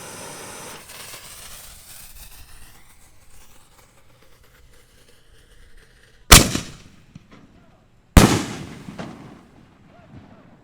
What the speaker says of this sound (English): these shells are pretty nice, especially for 4-inchers. They're really loud for 4-inch